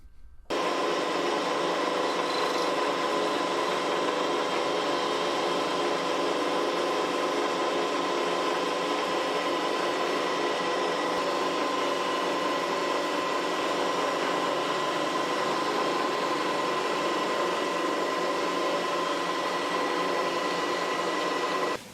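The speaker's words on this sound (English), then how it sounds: "setting up to machine off those protruding screw ends" Steady, loud machining noise of a milling cutter taking protruding screw ends off a cylinder head held with a toolmaker's clamp, a continuous whirring drone with a high tonal whine running unbroken throughout with no talk.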